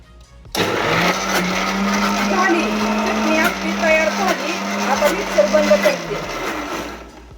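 An electric mixer grinder whirs loudly and close while blending raw mango chutney, starting abruptly and running steadily with a droning motor pitch that wavers as the contents churn before it cuts off.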